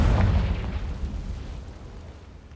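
A Confringo spell exploding in Hogwarts Legacy, a loud booming burst at the start that rolls off into a long, fading low rumble, with no voices.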